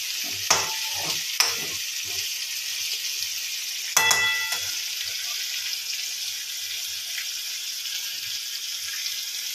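Onions and whole garlic cloves sauté in a pan for homemade chicken masala, giving a steady close sizzle with sharp stirring clatters near the start and around the four-second mark.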